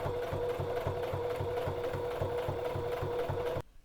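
Steady, rhythmic whirring and needle thumping of a sewing machine running continuously as it stitches a narrow hem around a piece of fabric, close and even, cutting off abruptly just before the end.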